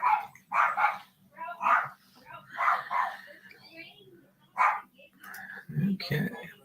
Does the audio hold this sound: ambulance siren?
no